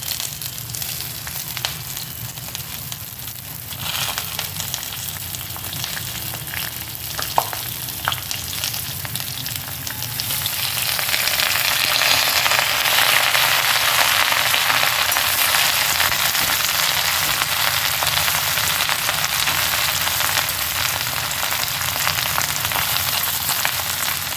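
Potatoes frying in oil crackle softly until washed bottle gourd greens go into the pan, when a loud, dense, hissing sizzle surges up and holds steady, with occasional stirring.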